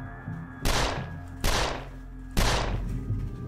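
Three heavy gunshots in the video game 13 Days in Hell, each a loud booming blast with a decaying tail, spaced unevenly over a low steady game hum.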